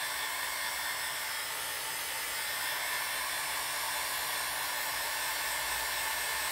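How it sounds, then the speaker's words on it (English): A Conair hot air tool blows steadily while drying alcohol ink on a crafting surface, a loud continuous whooshing roar with a fixed motor whine and no break throughout. "So I'm going to actually just use this Conair tool to make sure any of the thicker areas of ink are drier."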